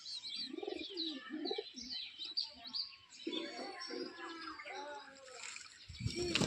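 Pigeons coo in low, rolling bursts amid lively chirping, the calls rising and fading at moderate distance while a voice calls out intermittently.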